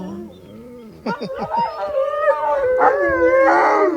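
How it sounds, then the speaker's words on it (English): Wolves kept in pens howl together in a rising, layered chorus, starting faint and swelling louder with overlapping wavering voices and some yips, close by and outdoors. "Listen to them howl."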